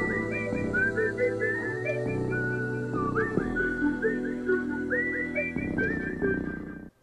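A whistled melody closes a song, its clear bright notes running over the guitar and band arrangement for about seven seconds before fading at the end.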